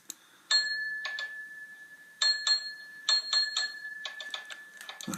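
Repeated electronic signal box bells from a model railway ring in short clustered bursts with pauses between, fairly close and clear, with no talking.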